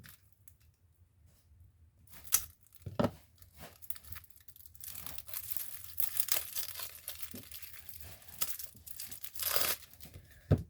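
Scrapbooking product packaging being torn open: faint fiddling, then sharp rips and crinkly plastic and paper crackling up close in uneven bursts, growing busier toward the end.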